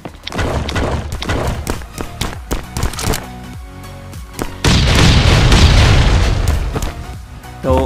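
In a survival video game raid, three oil drums go off as a run of heavy booming blasts. Rapid thuds come first, then one sustained loud explosion roar, with faint talk beneath.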